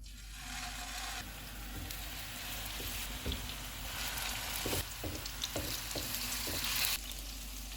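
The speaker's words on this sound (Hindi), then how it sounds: "ऑयल गर्म हो गया, चूल्हे को कम कर देंगे और इसमें कबाब डाल देंगे" Malai seekh kebabs fry in hot oil in a pan, a steady close sizzle with occasional sharper crackles and stirring clicks, no voices.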